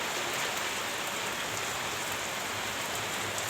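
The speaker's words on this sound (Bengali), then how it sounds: "বৃষ্টিটা কিন্তু ভালোই জোরে পড়ছে" Steady heavy rain pours down without a break, a dense broadband hiss of drops striking surfaces close by, with no voices.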